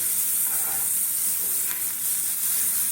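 Onion rings fry in butter in a pan, giving a steady, close, bright sizzle and hiss that holds evenly without pause, with no voices.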